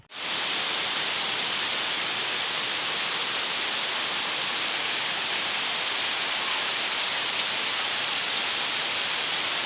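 Steady rain pours down in a dense, unbroken hiss that holds at the same loud level throughout, with no voices or other sounds standing out.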